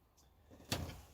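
A cabin door at an off-grid retreat in frigid polar-vortex weather is pulled shut with a single sharp thud, preceded by faint rustling and scraping, close by with no talk.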